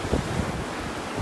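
Waves wash onto a rocky beach at North Naples, a steady close roar of surf with wind buffeting the microphone across a short stretch.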